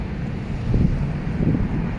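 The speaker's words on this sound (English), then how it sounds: "The wind is picking up in Las Vegas." Wind blowing outdoors in Las Vegas, a steady low rumbling buffet against the microphone that swells briefly, with no one talking.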